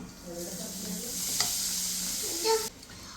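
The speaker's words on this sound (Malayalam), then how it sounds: "നമ്മൾ പപ്പടം വറുക്കണതിൻ്റെ ഇടയിലാണ്" Pappadam fries in hot oil with a loud, steady, close sizzle and crackle throughout, while a faint voice briefly murmurs in the background.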